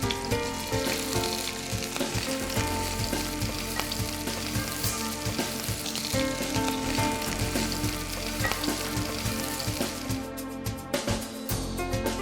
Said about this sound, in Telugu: ఉల్లిపాయ, పచ్చిమిర్చి బాగా వేగాక అల్లం వెల్లుల్లి పేస్ట్ వేసి ఓకే.